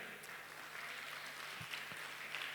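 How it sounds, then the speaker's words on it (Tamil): Audience applause at a Tamil New Year (Varudapirappu) stage show, a steady, fairly faint wash of many hands clapping from a distance with no voices over it. "நல்லா ஜோரா கைத்தட்டுங்க"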